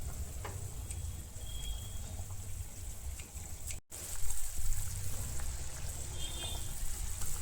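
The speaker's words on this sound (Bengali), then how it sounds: "কি সুন্দর ফুটছে দেখুন।" Tomato rasam simmers in a pot with a constant low bubbling and hiss, broken by a brief gap partway through, steady and moderately close with no speech.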